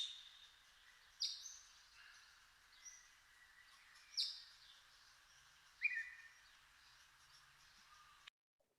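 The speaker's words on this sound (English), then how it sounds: "So those calls are from the Woodhouse's scrub jay." Woodhouse's scrub jay calls outdoors in San Antonio, three sharp harsh calls spaced a few seconds apart, moderately distant, over a quiet airy background.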